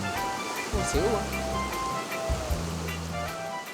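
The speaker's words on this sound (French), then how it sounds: "Et j'entends le bruit de l'eau, hein?" Steady broadband rush of water at the top of the Houniema cascade near Touho, loud and continuous under the voices of people talking close by.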